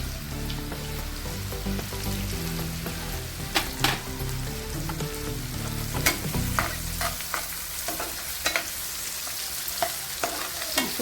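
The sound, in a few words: onion frying with salt and turmeric in a pan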